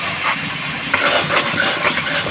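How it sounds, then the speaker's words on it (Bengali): Cut potatoes hiss and sizzle in a pan after being poured in, a steady broadband frying roar with a few faint crackles over a short stretch. "আলু কাটাগুলোকে ঢেলে দিলাম।"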